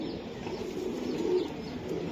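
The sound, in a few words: big gangchil racing pigeon cooing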